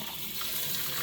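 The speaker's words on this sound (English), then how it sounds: "this is like the worst faucet, and that's why I have the drain in there" A poorly working faucet runs steadily as tumbler contents are rinsed in a sink, a brief, even, hissing gush of water up close.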